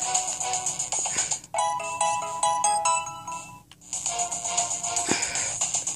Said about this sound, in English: as you can hear by the music, Team Magma's here.